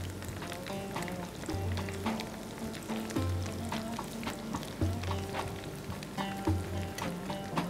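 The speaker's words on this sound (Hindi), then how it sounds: "तो चिकन कुल्फ़ी हमारी हो रही है फ्राई" Minced chicken kulfi fries in hot oil with a loud, constant sizzle, broken by repeated soft clatters and scrapes from stirring, heard close up.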